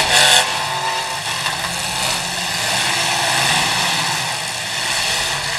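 Race car motors at a racing event, a loud sustained droning engine roar from multiple cars, swelling and fading slightly as they circulate, with no talk over it.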